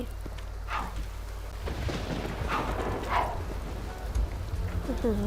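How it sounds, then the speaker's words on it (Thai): Steady rain hisses throughout in The Sims 2 video game, with low rumbles of thunder rolling underneath, and a voice speaks faintly over the storm. "ฝนตกด้วย"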